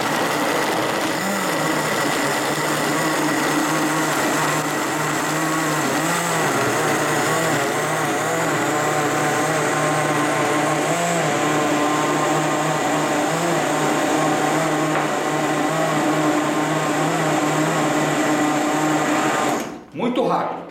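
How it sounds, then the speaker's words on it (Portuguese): A kitchen blender whirs through avocado cream with coconut milk and ice, a loud, steady motor drone with a slightly wavering pitch that runs for about twenty seconds and then cuts off abruptly. "a gente vai bater sempre com a ajuda do liquidificador"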